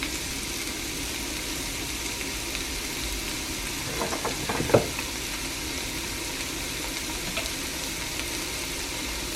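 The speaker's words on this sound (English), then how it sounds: "I'm just going to stir that up and saute that before I add the other stuff" Cauliflower, cabbage and celery sautéing in olive oil, a steady broadband sizzle throughout with a brief burst of stirring scrapes and clatter near the middle.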